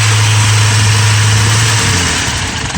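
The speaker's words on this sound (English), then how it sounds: "see, it's bogging down. That's the problem, backfires." A Mazda B2600i pickup truck engine with no power, bogging down while running: a loud, steady close-up drone whose low rumble drops and roughens near the end, with no clear separate backfire pop.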